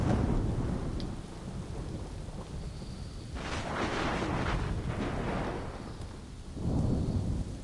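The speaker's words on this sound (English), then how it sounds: "Here comes the rain, the storm." Steady rain hisses throughout while deep rolling thunder swells twice in the video game Assassin's Creed III Remastered, the storm rumbling loudly and close with no voices.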